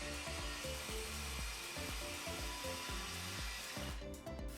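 A power saw whines loudly as it cuts bar molding boards to length for a custom home bar, a sustained droning motor with wavering pitch that cuts off near the end.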